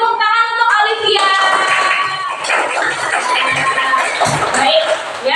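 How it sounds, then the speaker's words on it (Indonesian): A fourth-grade class applauds a classmate in a primary school science lesson, lively clapping mixed with children's cheering, shouting and chatter, and a teacher's voice over the top. "beri tepuk tangan untuk Olivia."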